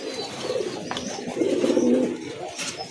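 A pair of large pure white Parbin pigeons coo nearby in low, rolling throaty phrases, with a couple of brief soft chirps from other birds.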